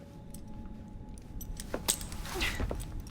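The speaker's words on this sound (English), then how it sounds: "Now hand over your keys." Keys jangle softly as they are handed over in the game Assassin's Creed Syndicate, a short metallic rattle building after a quiet start, close and alone.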